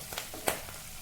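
Curry leaves and turmeric being mixed in hot oil give a brief, faint sizzle with a couple of soft stirring scrapes.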